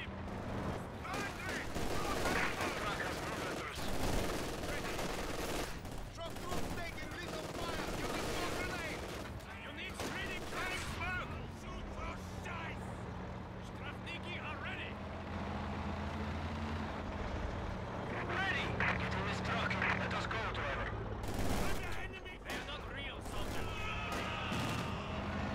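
Gunfire in the video game Company of Heroes 2: dense, continuous volleys of rifle and machine-gun fire mixed with rumbling vehicle engines, all at a fairly loud level, with voices talking throughout.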